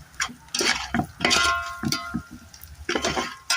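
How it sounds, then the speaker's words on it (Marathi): Spices get stirred into onions in a pan on a wood-fired stove, bursts of close scraping and rustling in an irregular rhythm with faint frying underneath. "हे टाकते मसाले सगळे कांद्यामध्ये मिक्स करून घेतलेत"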